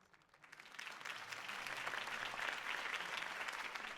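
Crowd applause follows Harvey Dent's campaign speech in the Batman Telltale video game; distant-sounding dense clapping swells in from quiet and holds steady and moderate throughout.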